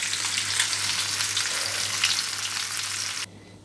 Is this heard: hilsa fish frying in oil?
yes